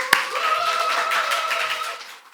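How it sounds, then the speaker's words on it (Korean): A church congregation claps in a steady, sustained round to welcome a guest speaker, one sharp clap near the start and then dense applause that fades out toward the end, no clear cheering. "우리 박초영 목자님 오실 때 큰 박수와 함성으로 맞이하도록 하겠습니다"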